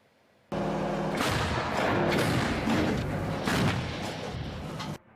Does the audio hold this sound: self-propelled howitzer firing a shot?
yes